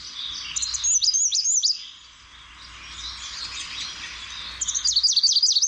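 Bird call played back through a bird identification app, a bright chirping song in two loud bursts at the start and end with a quieter stretch between.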